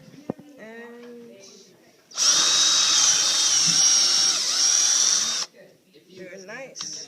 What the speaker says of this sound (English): so that our drill bit doesn't slip when we're trying to make the hole